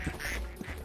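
Ducks quack in a factory scene from the video game Project P.I.T.T., a short burst of nasal calls standing alone with no talk.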